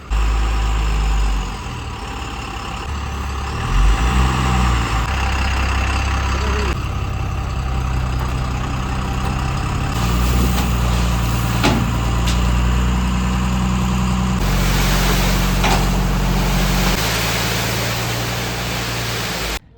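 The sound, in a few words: dumper truck delivering and unloading sand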